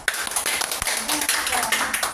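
An audience at a talk on water claps briefly after a lecture, a quick scattered burst of moderate hand claps with a voice over it.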